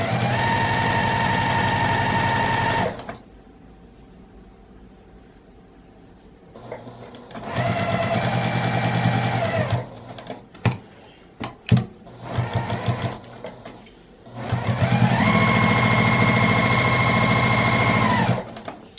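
A sewing machine stitches a quilted patchwork tote bag, running in three long, steady, buzzing bursts separated by quiet pauses filled with handling clicks and thumps; close and loud, with no talk.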